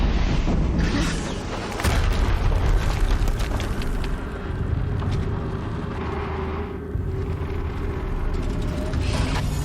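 Turret firing followed by explosions in the Horizon Zero Dawn game, loud booming blasts and rumbling bursts that come and go over a noisy background.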